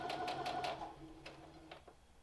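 A sewing machine stitches a quarter-inch seam along a curve in fabric, giving a brief, close burst of rapid mechanical whirring, then quieter intermittent clicks as it slows.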